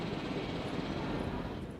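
A helicopter in the dinosaur park game Jurassic World Evolution gives off a steady, faint rotor and engine rumble throughout, fading slightly at the end.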